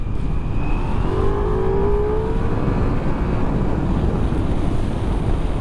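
A Ducati Multistrada V4 S motorcycle engine revs up, its pitch climbing, loud and close over heavy wind rumble, with no one speaking.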